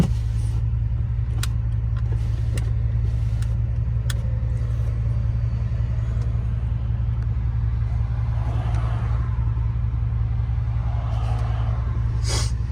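A straight-piped Pontiac Bonneville GXP with its catalytic converter deleted idles with a deep, steady exhaust drone heard from inside the car, rising in a couple of mild revs.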